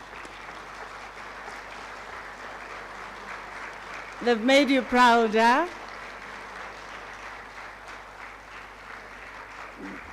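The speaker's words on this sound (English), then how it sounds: "can you please stand up and give them a standing ovation and a round of applause?" A graduation ceremony audience of parents and loved ones at Unisa Ethiopia gives a steady round of applause, with a speaker's voice briefly heard over it.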